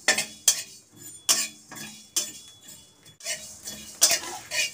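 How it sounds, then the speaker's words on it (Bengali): Whole cumin and coriander seeds being dry roasted in an empty pan on the stove, heard as a spoon or spatula scraping and clinking against the metal in several close, rhythmic strokes. "আর গোটা ধনে এটাও ওই রকম দিয়ে একটু ভেজে নেব, শুকনো কড়ায় ভেজে নেব।"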